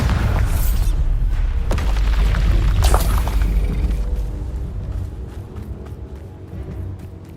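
Heavy booming spell explosions from Bombarda and Confringo in the Hogwarts Legacy video game, loud rumbling blasts in the first few seconds that fade into a quieter tail, with no talking.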